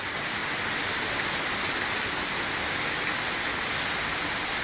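Steady rain falls at Palaia Panagia in Greece, a dense, even hiss of drops with no breaks, fairly close and alone with no voices.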